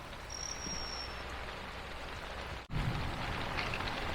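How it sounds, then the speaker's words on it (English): Heavy rain pounds down during a lightning and thunderstorm at an RV campground, a dense, steady roar heard from inside that barely dips for a moment before continuing unbroken. "It is a huge lightning and thunderstorm, and as you can see, quite a bit of rain also."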